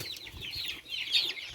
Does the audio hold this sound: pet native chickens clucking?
yes